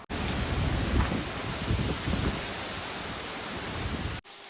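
Gusty cyclone wind batters an uncovered microphone outdoors, a loud, continuous roaring rumble that surges in buffeting gusts for about four seconds, then cuts off abruptly.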